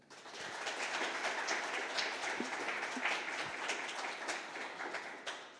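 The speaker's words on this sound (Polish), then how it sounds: "Bardzo duże brawa dla nich." Crowd applause at a festival gala for the sign language interpreters, a dense, steady wash of many hands clapping that keeps going evenly throughout.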